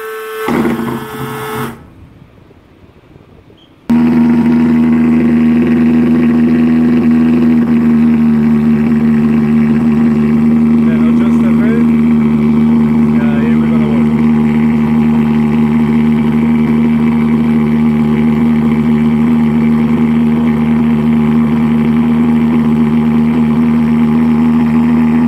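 A repaired fogging machine's small engine runs steadily at close range, a continuous loud drone that starts abruptly after a brief quieter stretch and holds without pause, with no talking.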